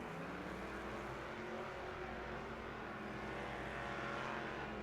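A V8-swapped Mazda Miata drift car at full throttle during a night Formula Drift round in Las Vegas, its engine a steady, dense roar held for the whole stretch with faint crowd and track wash behind it.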